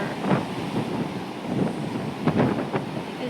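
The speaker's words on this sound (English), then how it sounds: "As far as you can see, waves, sir." Ocean waves crash during Hurricane Debby as strong wind buffets the microphone. The roar of surf and gusts is broad and continuous, with no voices.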